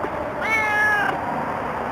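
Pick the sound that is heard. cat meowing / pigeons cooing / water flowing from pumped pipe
cat meowing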